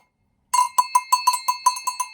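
A large bell, rung against a smaller older one and duller in tone, sounds nine quick ringing strikes in an even rhythm, each ringing briefly, loud and close after a moment of silence.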